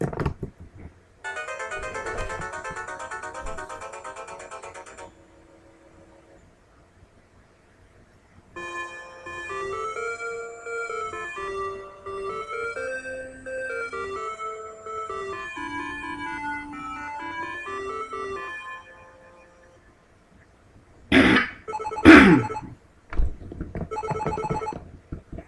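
Chiptune melody from the NES game StarTropics at the start of a chapter: bright beeping square-wave tunes in two phrases separated by a pause, followed by a few loud abrupt game sound effects at the end, no talking.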